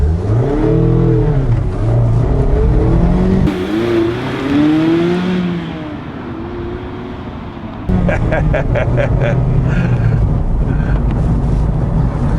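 A 2017 Mazda Miata MX-5 RF hardtop convertible accelerates hard, its engine rising in pitch through the revs, dropping at a gear change and climbing again, loud and close with wind buffeting the microphone.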